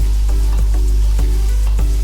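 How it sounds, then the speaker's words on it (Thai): Pork tenderloin pieces sizzle and fry with garlic in a hot iron wok, a loud, continuous close sizzle with rhythmic scraping stirs roughly every half second. "ผัดหมูนี่ผัด ผัดให้ กลิ่นควันหรือว่ากลิ่นกระเทียมเนี่ยมันเข้าไปในหมูนะครับ"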